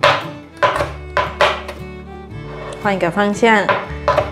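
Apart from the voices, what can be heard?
knife chopping chili peppers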